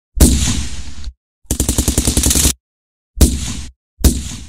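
Bursts of gunfire in the video game Fortnite come loud and close: a single sharp shot, a rapid rattling string of shots, then two more single heavy blasts, each separated by silence.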